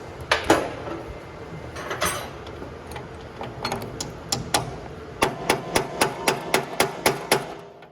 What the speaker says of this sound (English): And you got a hammer.